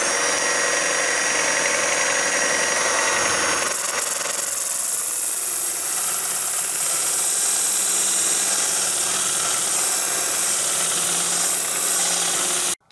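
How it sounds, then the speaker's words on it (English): A belt grinder, worked by hand without guides, grinds down a Spyderco Spyderfly balisong knife, a loud, continuous abrasive rasping hiss that holds steady for the whole stretch with no talking. "probably leave this open, and I'll just use the side here to kind of grind it down"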